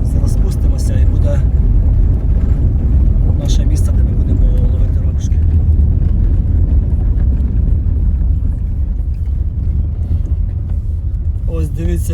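A car drives along a dirt road high in the mountains of New Zealand, its deep engine and tyre rumble steady and loud throughout, with voices faintly underneath.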